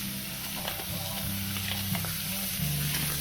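Potatoes sizzle and crackle on a Blackstone griddle alongside steak tips, a steady close frying hiss with scraping and stirring from a spatula.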